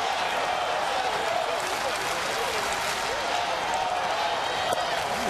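Baseball stadium crowd at an Astros home game against Kansas City, a steady broad roar and murmur of cheering spectators, sustained and fairly loud throughout with no clear breaks.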